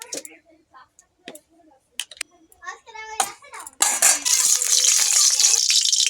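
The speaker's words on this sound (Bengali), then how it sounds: "আজকে কড়া তেল দেবো ডিমগুলো ভাজে নেবো" Eggs dropped into very hot oil in a home kitchen, starting with a sudden loud, bright sizzle that holds steady, after scattered clinks, ticks and brief speech.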